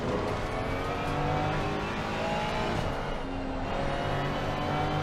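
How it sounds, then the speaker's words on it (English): A Ferrari 296 GT3 race car on track braking hard and dropping down through the gears, its engine note falling and blipping in a steady, close roar with no talk. "Hard on the brakes. Down through the gears."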